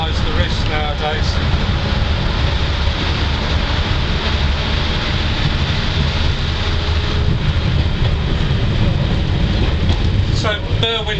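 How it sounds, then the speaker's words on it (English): A train on the heritage line between Llangollen and Carrog, heard from on board as a steady loud rumble of running gear and engine throughout, with a voice speaking briefly near the start and end. "Yes, train coming."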